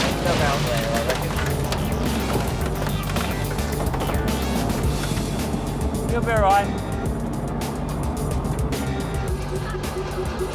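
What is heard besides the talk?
tank engine driving over cars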